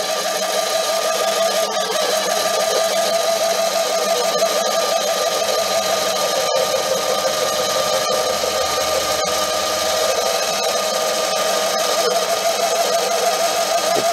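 A Manson Duo lathe runs in back gear with a steady, loud mechanical whine and hum, marked by faint periodic clicks throughout.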